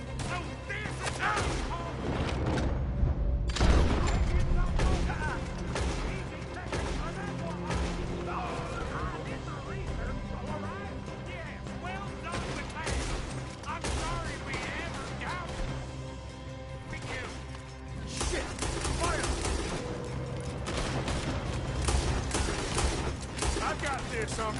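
Gunfire in Red Dead Redemption 2 during a shootout: repeated shots and impacts blend into a dense, continuous din of battle noise, with voices talking over it throughout.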